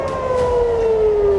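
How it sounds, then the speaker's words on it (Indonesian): An air raid warning siren wails over the city of Haifa, one long, loud, steady tone that slowly falls in pitch and sounds alone. "Sirine peringatan meraung hingga warga berlarian ke tempat perlindungan"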